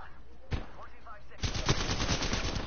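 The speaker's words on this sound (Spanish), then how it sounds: "Son tiros." Gunfire rattles through a battle royale shooter match, a single loud shot followed by a sustained burst of rapid automatic fire, close and dense, with no talk over it.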